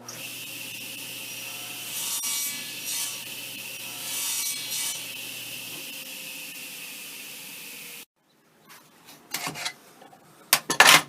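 A table saw rips along the edge of a wooden board guided by a miter gauge, a steady loud whirring cut for about eight seconds that stops abruptly, followed by scattered knocks and clatter as the saw winds down.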